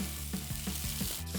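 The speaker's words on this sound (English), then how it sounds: "We're going to add the mushrooms bottom side down to the hot pan" Mushrooms frying bottom side down in a hot pan, weighed under a second pan, give a steady close sizzle with a regular pulsing rhythm throughout.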